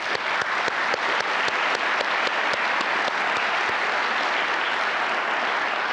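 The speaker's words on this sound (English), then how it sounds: "So let's give them a round of applause." Conference audience at the VIS 2023 welcome session applauding steadily for several seconds, a dense wash of clapping with a few sharper individual claps standing out, even in level throughout.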